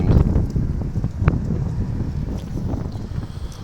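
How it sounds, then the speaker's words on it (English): Strong outdoor wind buffets the microphone beside a Caterpillar 120M motor grader that was damaged by an engine fire. The rumble is steady and low, with gusty bursts throughout and no speech. "I apologize for the wind."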